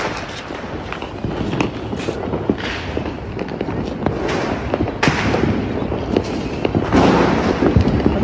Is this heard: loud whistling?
no